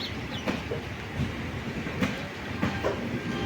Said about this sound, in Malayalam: ഇത് നമ്മുടെ കായംകുളം ജംഗ്ഷനിലേക്ക് നമ്മുടെ ട്രെയിൻ എത്തിയിട്ടുണ്ട് കേട്ടോ